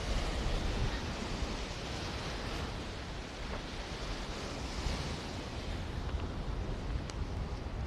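Steady roar of sea waves at Ageeba beach in Marsa Matrouh, a continuous broadband wash of surf with some wind, loud and even throughout with no talk.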